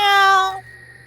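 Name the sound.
cat meowing in animated story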